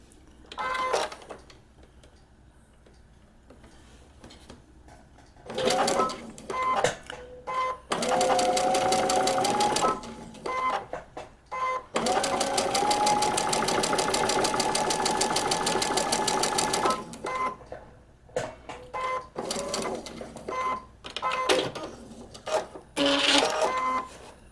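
A sewing machine stitches a paper-pieced quilt block, running in long steady whirring bursts. These are broken by short clicks and pauses, followed by a stretch of choppy start-stop stitching, all close and fairly loud.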